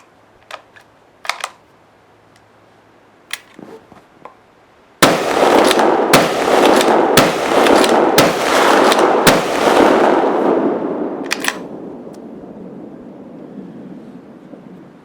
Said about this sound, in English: Rifle is ejecting brass.